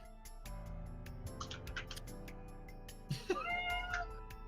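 A pet cat named Chico meows a few times indoors, with a short questioning call and then a longer rising-falling meow near the end, faint against a steady low hum.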